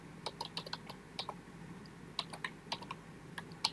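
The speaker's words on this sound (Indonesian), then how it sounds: "kemudian kita ketik sintaksnya do" Keys tapped on a computer keyboard while entering programming code, a quick irregular run of light clicks in bursts with short pauses, close and alone in a quiet room.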